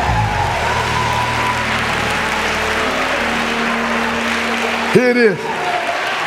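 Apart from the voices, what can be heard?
congregation clapping hands in praise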